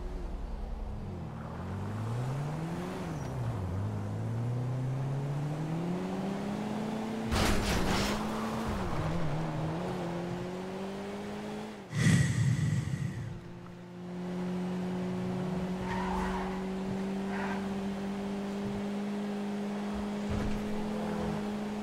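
A car driving in Grand Theft Auto V, its engine humming steadily and rising and falling in pitch through gear changes, with a couple of brief bangs or impacts midway, continuous and fairly quiet.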